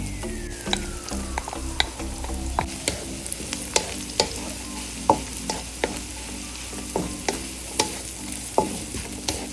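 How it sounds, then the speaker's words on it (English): Garlic, ginger and onion sauteing for Singaporean chili crab, a steady close sizzle broken by regular sharp clinks and scrapes of a utensil stirring against the pan, with no talk. "I'm going to saute this for at least 2 minutes"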